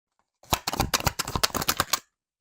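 A deck of tarot cards being shuffled: a quick burst of about a dozen crisp riffling snaps lasting under two seconds, close and clear against silence, with no talking.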